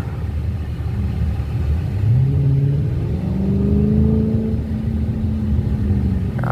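Car engine idling with a low rumble, then revving up twice in rising swells before settling back, heard from inside the car with the windows closed.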